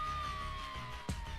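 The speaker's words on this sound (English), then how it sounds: "those sirens must mean it's time to call Big Papa Pump." A police-style siren wails steadily with a slowly falling tone, loud and alone, broken near the end by a brief thump.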